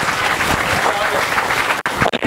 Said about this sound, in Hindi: बच्चों तालियां बजानी है आपने